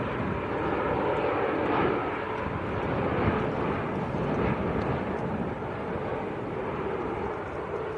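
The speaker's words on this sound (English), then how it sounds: "Little German bizjet also taxiing out, little citation that came in earlier." A small German-registered Cessna Citation business jet taxis out at Manchester Airport, a steady, broad engine roar at moderate distance that holds evenly throughout, with no talking.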